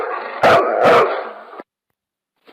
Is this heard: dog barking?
yes